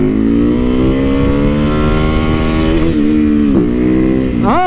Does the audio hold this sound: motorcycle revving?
yes